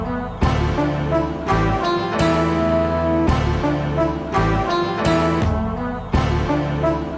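Chopped-up soul sample of a song, loud, dense musical fragments cut and retriggered in an uneven rhythm, playing alone.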